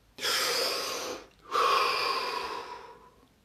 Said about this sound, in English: Drop your hands, take 3 deep breaths.